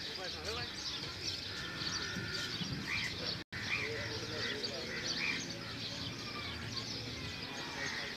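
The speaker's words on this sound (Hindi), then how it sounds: "बैकग्राउंड में बहुत सारी आवाज़ आ रही है चिड़ियों की" Many birds chirp and twitter continuously in the background, a busy layered outdoor chorus with some croaking mixed in, heard under a steady murmur.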